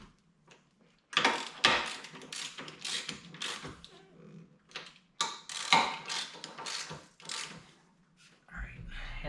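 Nuts being tightened on a strut tower brace plate of a BMW 3 Series, heard as bursts of rapid ratchet clicking close by, broken by pauses, with someone talking in between.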